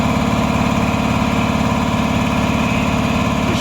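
Worn air compressor running steadily as it builds toward about 100 psi, a loud, constant mechanical chugging drone with an even pulsing rhythm and no talk.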